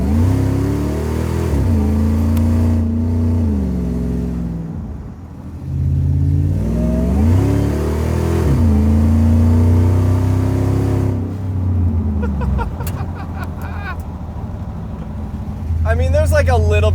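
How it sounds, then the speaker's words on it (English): A Ford SVT Lightning sport truck's supercharged engine revs up and down repeatedly, loud and close, its rising and falling pitch carrying a faint supercharger whine, with a voice talking over parts of it. "there's like a little bit of supercharger whine"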